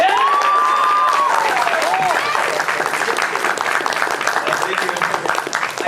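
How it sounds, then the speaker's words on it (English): Audience applause and cheering at a fall banquet, with dense sustained clapping, whoops and a rising whistle near the start, staying loud throughout. "can we get a huge round of applause for Nick"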